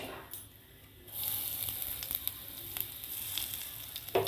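Asafoetida dropped into hot oil with cumin seeds in a wok: after a quiet start, a bright sizzle bursts up and holds steady, with a few light clicks and a louder knock near the end, close and without speech.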